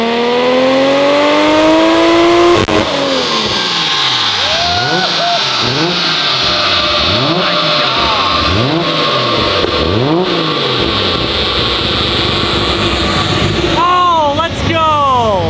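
A tuned Nissan R32 GTR engine revs hard at high RPM, loud and close, rising in repeated surging pulls with burbles between them, then a sharp final rev at the end.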